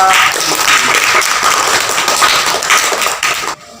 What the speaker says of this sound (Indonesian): Kita kasih aplaus buat